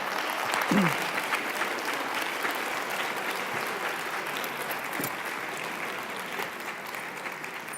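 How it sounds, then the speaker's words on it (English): A room full of people applauds steadily, a dense even clapping that holds at the same level from start to finish. "Let's clap it up for Elena"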